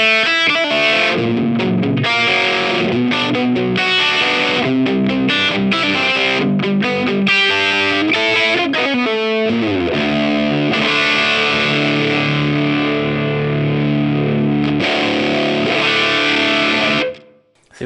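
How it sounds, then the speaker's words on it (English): An electric guitar played through a JHS PG-14 distortion pedal with the push control raised rings out in heavily saturated chords and riffs, loud and continuous before cutting off at the end. "So if you want to have a lot of distortion, you need to add some push."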